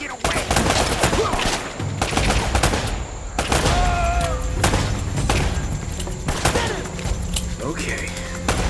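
Sustained gunfire from Uncharted: Drake's Fortune, dense bursts of shots and impacts rattling continuously throughout, loud and close, with game music and voices underneath.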